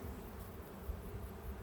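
Agitated honey bees at a Long Langstroth hive give a faint, steady buzzing drone with no voices over it.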